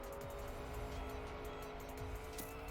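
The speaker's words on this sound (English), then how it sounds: "Finally an old car again." A desert car roaring along in a racing video game, its engine droning steadily with faint tire noise, loud and constant throughout a short stretch.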